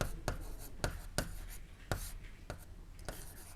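Chalk taps and scrapes in repeated bursts as Sanskrit is written on a board during a Class 8 lesson, close and crisp with quiet pauses between strokes.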